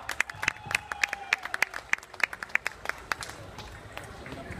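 Crowd applause before the stage at a Diwali mela in Manukau, heard as sharp, fairly even claps standing out against faint background noise and settling into a thinner patter toward the end.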